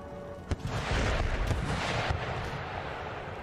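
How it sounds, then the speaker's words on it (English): Foot artillery fires a volley during a siege of Paris in Empire: Total War, a sharp crack followed by a cluster of heavy, overlapping booms that roll into a sustained rumble of battle noise. "One more volley from the foot artillery."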